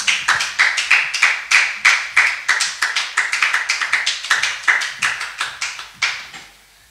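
A church congregation claps in unison to acclaim Jesus, a crisp rhythmic beat of sharp hand claps close by, repeating steadily for several seconds before trailing off.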